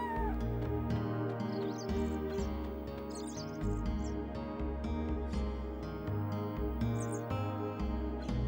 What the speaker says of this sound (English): I just realized there are 2 cats